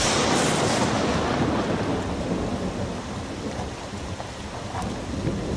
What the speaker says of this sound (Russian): Там такой сильный дождь.